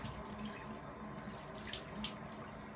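Water running from a tap and splashing onto a washcloth at a bathroom sink, a steady close-up gush with a few brief sharper splashes as the cloth is rinsed.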